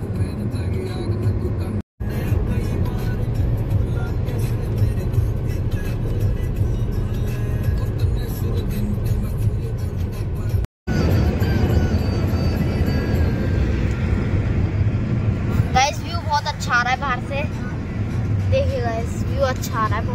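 A steady rumble of a car heard from inside while driving, constant road and engine noise throughout, with people talking over it near the end.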